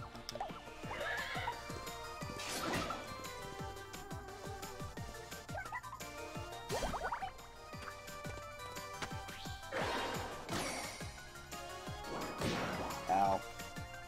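A video game horse in Miitopia whinnies several times amid heavy thuds, crashes and clopping hooves, all loud and close.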